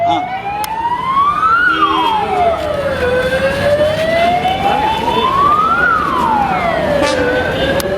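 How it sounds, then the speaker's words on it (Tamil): An ambulance siren wails loud and close, sweeping steadily up and down in long cycles amid a street crowd at an election campaign event, with traffic noise underneath. "தயவு செஞ்சு ஆம்புலன்ஸ் வழி விடுங்க"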